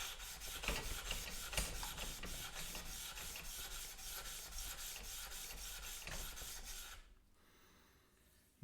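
A flattening tool is rubbed back and forth across a sharpening stone to flatten and dress its surface, producing a close, gritty rasping scrape in even rhythmic strokes that stops abruptly near the end.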